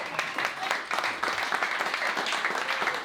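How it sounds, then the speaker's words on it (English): A comedy show audience gives brief, lively applause, with many hands clapping in a quick, bright patter for about three seconds. "Clap it up for him"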